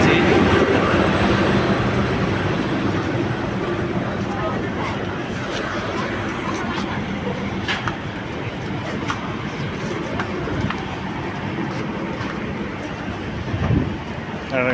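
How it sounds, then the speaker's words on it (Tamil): A diesel passenger train arriving at Chennai Egmore station rumbles loudly with rolling wheel clatter and a brief squeal of wheels, while people talk over it. "எங்களோட டீசல் ட்ரெயின் எப்படி இருக்குன்னு பாருங்கள்."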